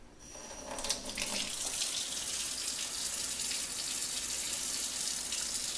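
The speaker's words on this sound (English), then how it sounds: "When we actually turn the faucet on and we start producing aqueous ozonated water" Steady rush of water pouring from a faucet fitted with an ozone water purifier, starting with a brief clatter and then running continuously at an even level.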